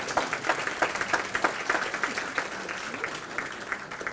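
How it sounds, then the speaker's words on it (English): An audience gives a presenter one more round of applause at a business event, a dense burst of clapping from many hands that carries steadily throughout, close and lively. "Give her one more round of applause."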